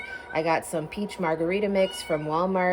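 A kitten meows from inside a crate, the cries partly buried under close, continuous talking from a woman nearby.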